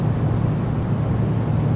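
Spaceship engine in the space game Objects In Space, a steady low hum with broadband rumble, continuous and even throughout, alone with no talk.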